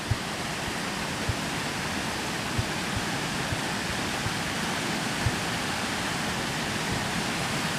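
A mountain stream rushes along the Mount Wilson Trail, a steady broadband roar of flowing water that fills the whole span, close and loud, with faint soft knocks or footsteps underneath.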